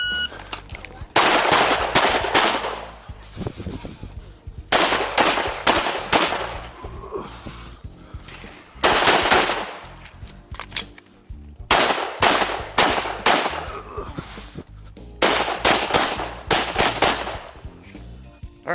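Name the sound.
gunshots during IDPA pistol match stage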